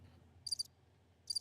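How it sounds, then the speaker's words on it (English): Cricket chirps played from a soundboard button: two short, faint, high trilling bursts separated by a brief pause over a quiet background. "Crickets."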